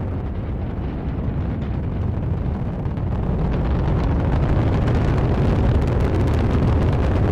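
ULA Vulcan rocket engines thunder during launch ascent for the USSF-87 mission, a continuous broadband roar with crackling texture that holds loud and steady throughout, with no voices over it.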